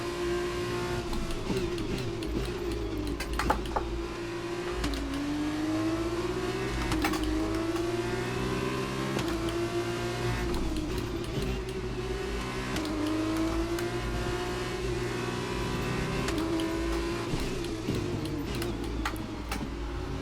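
Formula 2 race car engine from the F1 2020 racing game, a loud continuous high-pitched whine with rising gear pulls and repeated sharp shift drops, steady and close throughout.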